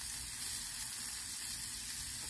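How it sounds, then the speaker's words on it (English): Zucchini fries on a Blackstone griddle as it is mixed, giving off a steady, dense, bright hiss of sizzling oil that stays even throughout, with no voices. "mix up my zucchini."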